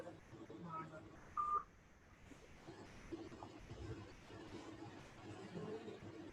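A single short telephone keypad tone beeps once on a quiet, low-level phone or online call line. Faint background noise and murmured voices surround it.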